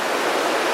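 Steady broadband rush of the Snoqualmie River flowing outdoors, a continuous even wash of water with no voices or other sounds.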